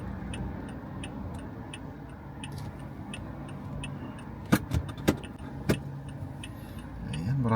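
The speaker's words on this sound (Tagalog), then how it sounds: "Ayan, marami pong sasakyan." Steady traffic hiss on a rain-soaked Massey Road in New Zealand, with a few sharper passing-car swishes and clunks near the middle over the constant wet-road wash and a faint regular ticking.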